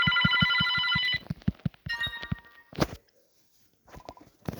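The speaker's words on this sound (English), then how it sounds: "Oh, the phone is ringing. Guys, the phone is ringing." A telephone rings in the video game Airplane 2, a bright repeating electronic trill pulsing over a steady beat, cutting off partway through before other game sounds follow.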